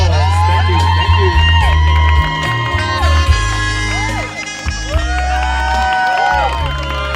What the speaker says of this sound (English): Ladies and gentlemen, please give them a big, big round of applause.